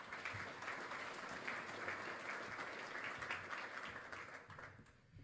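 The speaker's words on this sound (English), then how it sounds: "Let's give him a round of applause as well." A crowd applauds steadily, a dense wash of clapping that holds for several seconds before starting to fade near the end.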